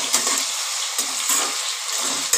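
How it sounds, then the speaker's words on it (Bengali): Potatoes frying in a pan for pasta give a bright, steady sizzle, broken by a few short stirring scrapes and clacks at irregular intervals, close and moderately loud with no talking. "এবার আমি আলুটাকে লাল করে ভেজে নেব।"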